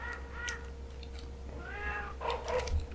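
Cats in the Mousetrap video game give out a run of synthetic meow-like sound effects, several short cries over a steady electronic hum with no talking.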